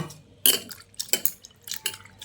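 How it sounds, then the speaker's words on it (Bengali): Soya chunks being rinsed in water in a bowl, with a few sharp splashy bursts of sloshing and clinking, close and fairly loud, separated by quiet gaps. "এবার এই সয়াবিনটাকে 3-4 বার জল পাল্টে পাল্টে ধুয়ে নেব।"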